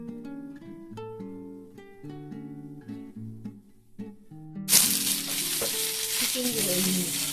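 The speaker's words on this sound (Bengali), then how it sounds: "প্রথমেই ভেজে নেব পেঁয়াজগুলোকে।" Onions dropped into hot oil in a pan start a loud, steady sizzle that breaks in suddenly over background music and continues close and unbroken to the end.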